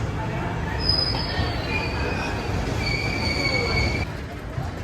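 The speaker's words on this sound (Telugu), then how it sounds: "మన ట్రైన్ స్లో అయిపోయిందండి ఇక్కడ." A Kacheguda-Mysuru Superfast Express slows to a crawl, with thin wheel squeals rising over a low steady rumble of rolling carriages.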